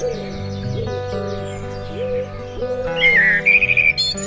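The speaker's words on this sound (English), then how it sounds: "the constant soundtrack of the birds, ever present from dusk till dawn" Birds sing in London, with clear whistled phrases and chirps repeating over a layered background of calls, growing brighter and busier toward the end.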